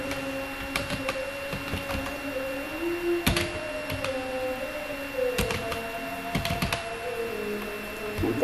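Typing an email address on a computer keyboard, irregular close key clicks over a steady background hum with faint tonal whines.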